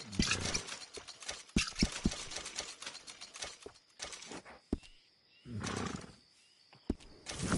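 A horse in Red Dead Redemption 2 snorts and shuffles, with repeated hoof clops and a low roaring whinny, loud and close, broken by a brief quieter stretch with a thin high tone before the animal noise returns.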